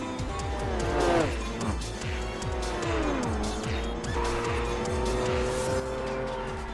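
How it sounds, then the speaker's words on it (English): Racing car in Ridge Racer 7 on PS3: a loud engine climbs through rapid repeated gear shifts, with a long tire squeal and skidding sliding through the middle, constant and close. "The car noises were insane."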